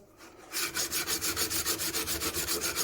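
Secateurs blade rubbed on a 200 grit sharpening stone in steady, rhythmic back-and-forth strokes, close and clear, with no talking.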